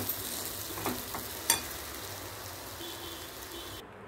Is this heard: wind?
no